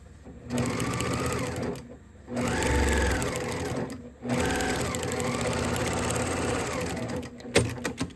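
Sewing machine stitching along zipper teeth while making a zippered bag, three sustained runs of steady whirring with short pauses between, close and clear, ending in a few clicks.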